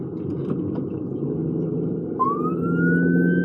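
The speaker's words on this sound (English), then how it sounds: "my police siren" A police siren sound effect rises in a single long upward wail over a steady low rumble of traffic, loud and without speech.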